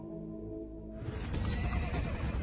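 A horse neighs loudly and up close, a sharp rising whinny bursting in after a low rumbling lead-in, with possible hoof clip-clop beneath.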